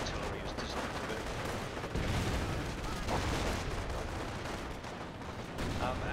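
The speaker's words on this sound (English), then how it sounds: "That's what artillery is designed to do." Artillery fire in the World War II strategy game Company of Heroes, with Germans against Americans, comes as dense, rumbling booms and crackling blasts layered over continuous battle noise, swelling in bursts at moderate loudness.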